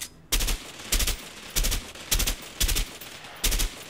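Gunfire in the video game A Way Out, six loud sharp bursts of shots spaced about half a second apart, each a short crackling volley close up, with quiet gaps between.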